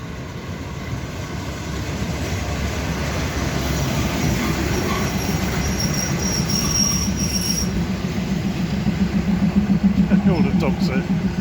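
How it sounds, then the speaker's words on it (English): A train pulls into a station in Lampang, northern Thailand, with a continuous loud rumble of wheels on rails that builds near the end, metallic squeals, and voices talking over it. "that toot means there's a train coming"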